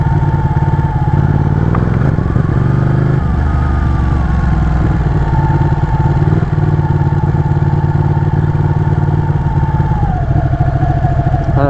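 A motorcycle rides up and over a 2x4 log on a rider training course, its engine loud and close with a steady drone, a clattering bump as it crosses, and a rising surge of throttle.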